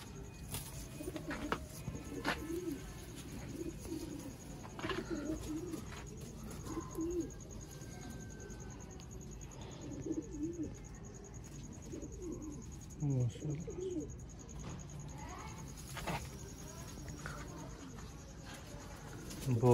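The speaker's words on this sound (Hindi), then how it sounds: "जी पकड़े फिर कबूतर।" Sialkoti pigeons coo softly and repeatedly at close range, low throaty calls recurring every few seconds over quiet ambient insect chirps.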